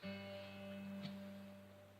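A single acoustic guitar chord rings out steadily and sustains softly, with a faint pluck partway through.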